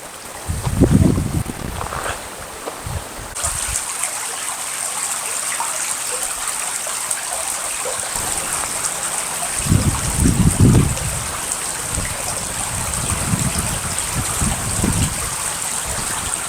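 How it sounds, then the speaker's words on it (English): A creek flows steadily beside a campground with a constant rushing wash, joined by a high insect-like whine and a few low bumps close to the microphone. "this sits right on the creek, and the sounds are so calming and quiet and beautiful"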